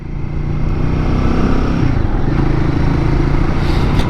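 A Royal Enfield Guerrilla 450 motorcycle fitted with a BMC air filter, its engine running close by with a steady, throbbing low drone and a slight rise in intensity, no voices.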